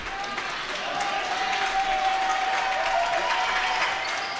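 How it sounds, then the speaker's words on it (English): A crowd at a women's high school basketball game gives a brief, steady round of applause that holds for a few seconds. Crowd murmur and a faint sustained tone sit underneath. "she gets a good round of applause"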